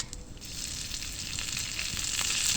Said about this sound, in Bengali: এর মধ্যে একটু কারি পাতা দিয়ে দিলাম, দিয়ে দেবো গোটা সর্ষে